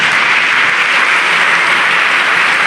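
A church congregation applauding together, a dense, loud, steady wash of clapping that fills the room without pause.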